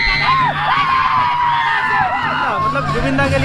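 An excited crowd waiting for a singer cheers and whoops at a live event in Guwahati, with dense, loud shouting and hubbub throughout and a voice speaking over it.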